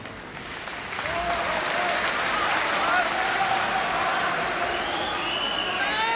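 Applause from a lecture audience swells after the first second into sustained, dense clapping that fills the hall, with faint voices mixed in.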